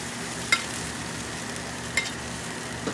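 Chicken and broccoli stir-frying in a pan give a steady, even sizzle, with a few brief clinks of a utensil stirring against the pan.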